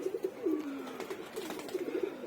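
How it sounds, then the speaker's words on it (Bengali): Soft, throaty pigeon coos repeat in a steady rolling rhythm, close by, with faint rustling and light background noise. "এগুলো সব আমার গিফটের কবুতর ছিল"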